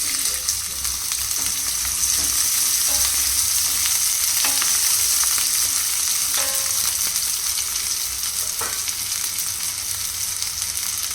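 Onions fry in oil in a pan during mutton keema cooking, a loud, continuous sizzle broken by occasional clinks and scrapes of stirring; no one speaks.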